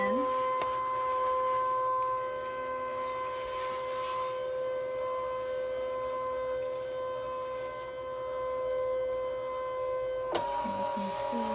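A Brother ScanNCut CM350 cutting machine scans, giving a steady electric whine with a sustained mechanical tone, a click near the start and a clunk as the motion changes near the end, while a person speaks.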